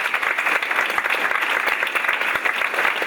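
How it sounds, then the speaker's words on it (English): An audience at a UCSB Middle East Ensemble concert applauds steadily for a thanked collaborator named Jesse, a dense wash of many hands clapping at close range, even in level throughout with no talk over it. "Can we all get a round of applause for Jesse?"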